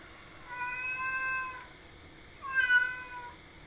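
A cat meowing: two drawn-out, wavering meows about a second long each, the second louder and more insistent, close and clear with no talk.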